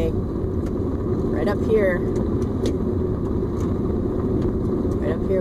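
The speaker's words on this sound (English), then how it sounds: "Throw the car into the driveway," A car engine hums steadily at close range as the car pulls into a driveway, a continuous low drone with someone talking over it throughout.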